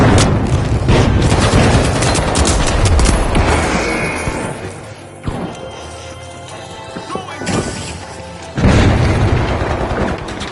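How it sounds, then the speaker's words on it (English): Missile explosion in The Finals video game, heavy booming blasts and crashing debris in a dense, loud mix, with a big impact near the start and another burst toward the end. "Missile effect!"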